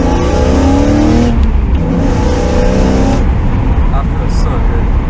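A BMW M3 engine revs and pulls hard from inside the cabin, a loud, deep drone with rising harmonics that climbs and then eases, while people talk over it.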